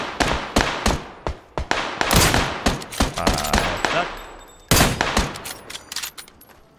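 Rapid bursts of gunfire in PUBG on PS5, loud and close, with sharp cracks in quick irregular clusters and a heavier volley near the end, no talk.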